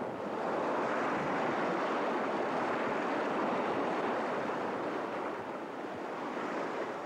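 Rushing river rapids roar steadily during a whitewater rafting run in Oregon, a dense, continuous wash of churning water close by with no voices, loud and unbroken throughout.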